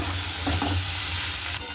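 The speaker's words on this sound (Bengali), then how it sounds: "এখনও জল দিইনি, ভাজা হচ্ছে" Vegetable curry with tomato frying in a pan before any water goes in, a close, dense sizzle with a brief stirring scrape in the middle, no voices.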